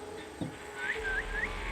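Three short rising whistles calling a horse in the video game Assassin's Creed Valhalla, clear over a low ambient game background with no talk.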